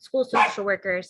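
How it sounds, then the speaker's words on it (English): A dog gives a few quick barks and yips, close and fairly loud, over and between a person's steady speech in an indoor setting. "sorry, that was my dog"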